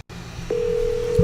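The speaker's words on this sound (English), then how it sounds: "Doc, answer the phone." A steady telephone dial tone comes in about half a second into a live phone-call bit and holds evenly to the end, with a brief low thump near the close.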